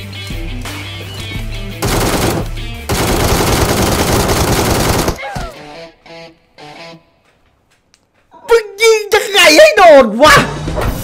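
The ACE32 rifle in PUBG Mobile fires in loud, rapid automatic bursts, followed by a stretch of quiet and then a person speaking excitedly over the game.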